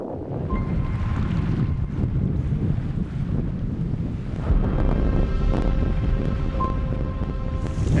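Steady wind buffeting the microphone with lake waves lapping and splashing against a canoe, a continuous rushing outdoor wash that grows a bit stronger midway as the wind picks up.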